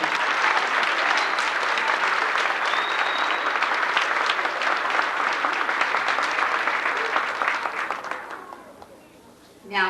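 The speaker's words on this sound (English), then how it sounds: "I can hear that from all the applause." Sustained audience applause fills a school auditorium at an elementary school spring festival, a dense steady clapping crowd that holds loud for about eight seconds before tapering off near the end.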